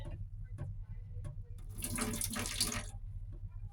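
Kitchen tap water running into a sink while being left to turn cold, a steady broadband splash that swells louder midway, heard alone over low background hum.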